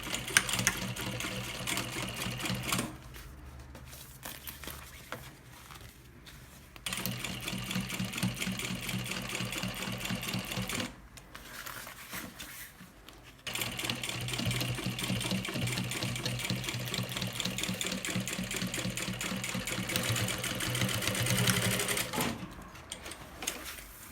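A sewing machine topstitches a fabric baby bag, running in long steady bursts of rapid stitching broken by short pauses, close and clear without talk.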